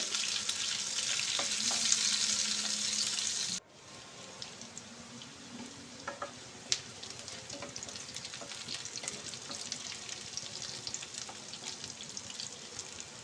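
Chopped onions frying in a pan for a rainy-day vegetable khichuri, a steady close sizzle that drops briefly, then continues with occasional stirring clicks and scrapes.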